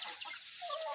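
Small wild junglefowl chicks, three being raised by hand, peep and cluck in high, thin, continuous chirps close by, with no talking.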